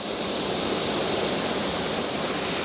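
A waterfall pours in a steady, dense broadband roar that fills the whole stretch evenly without pauses, loud and close.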